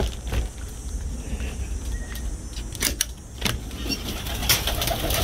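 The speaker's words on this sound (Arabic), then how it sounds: "وهاي الطيور وهاي الطواير هم راح اراويكم اياها" Pigeons coo softly in a loft or yard, low murmuring calls repeating under a few sharp metallic clicks and rattles, with no talk.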